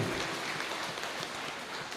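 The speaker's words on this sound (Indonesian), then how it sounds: "tepuk tangan meriah tu ketua lansia" Applause from a church congregation during a Sunday service at HKBP Bandung, honoring the leader of the elders; a steady, dense wash of clapping fills the whole stretch at moderate level.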